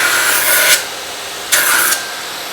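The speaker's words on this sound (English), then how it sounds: "The surface grinds a piece of metal." Surface grinder attachment on a 2x72 belt grinder working a piece of metal: two short, loud abrasive grinding passes, each under a second, separated by the quieter hum of the running belt.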